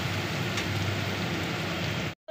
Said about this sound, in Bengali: এখানে পেঁয়াজটাকে লাল করে ভেজে নেব